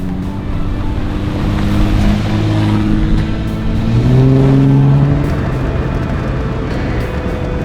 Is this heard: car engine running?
yes